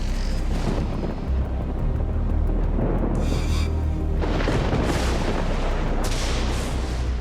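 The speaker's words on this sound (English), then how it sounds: "Every time I hear the thunder crash" Thunder crashes in a mountain lightning storm, a deep continuous rumble swelling into heavy booming cracks midway and again near the end, loud and enveloping with no voices.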